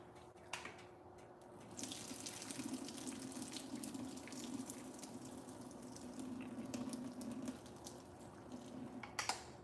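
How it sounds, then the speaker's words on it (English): Water pours steadily out of a cooking pot into a sink while greens are being prepared, a continuous rushing splash with a few light clinks, fairly faint and close. "Pour most of that water out."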